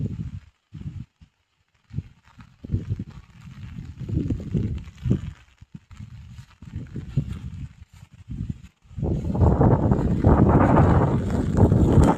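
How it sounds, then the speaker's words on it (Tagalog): Strong wind buffets the microphone in uneven gusts, rumbling low and loud, then blowing steadily harder toward the end. "Kusog siyang hangin."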